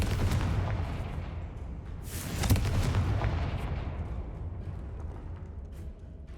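A Confringo blasting spell bursts in Hogwarts Legacy, a single deep boom that swells mid-clip and rolls away into a long, fading rumble, with no other sounds on top.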